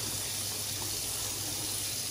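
A tap runs cold water into a bathroom sink before a shave, a steady close rushing hiss with no break across the whole stretch.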